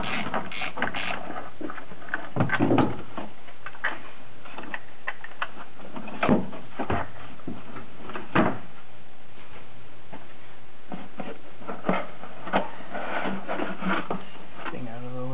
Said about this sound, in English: I'm going to pull the seatbelt retractor for a little bit more clearance